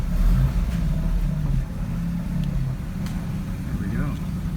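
A Mazda RX7 FD rotary engine idles steadily just after its first start, a continuous low rumble heard up close with faint background noise.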